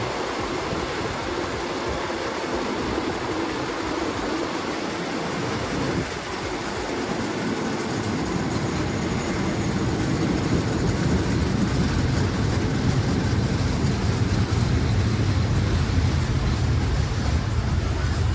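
Thai express train 111 rumbles and rolls steadily nearby as it pulls into Bang Bun Nak station, its broad roar growing louder and denser as it draws in, with no voices.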